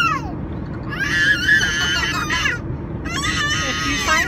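Toddler screaming in a car on a road trip, two long shrill high-pitched screams separated by a short pause, loud and close over steady road rumble.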